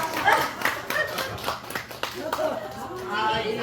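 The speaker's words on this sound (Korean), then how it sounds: "우리 유상아한테 박수 한 번 쳐주세요" Audience clapping at an elementary school class's 70th-birthday reunion, scattered hand claps rising and falling close by, mixed with voices talking over it.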